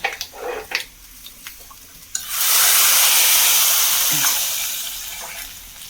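Browned onion tempering poured into a papaya curry: a few light clinks and taps, then a sudden loud, hissing sizzle that holds steady for a few seconds and slowly eases off, with no talking.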